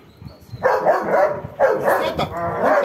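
A dog barks in several loud, close bursts with short gaps between them.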